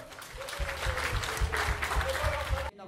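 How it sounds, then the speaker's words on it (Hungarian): A burst of clapping from a group of wedding guests, fairly close, with voices talking over it before it cuts off abruptly. "Tapsot, tapsot!"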